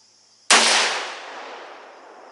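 A single loud shot from a CVA Scout rifle in .300 Blackout, fired one-handed outdoors, a sharp close crack followed by a long echoing decay.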